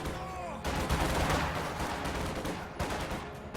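Enemy gunfire crackles through a strategy game battle, a sustained rattle of rifle and machine-gun shots at moderate distance, fairly quiet, with a brief voice line beneath.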